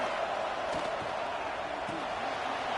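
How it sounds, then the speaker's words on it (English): A stadium crowd in a college football video game roars as a steady, dense wall of noise from start to end, loud and even, with faint thuds in the crowd. "It's early, but this crowd is fired up. Listen to this noise here."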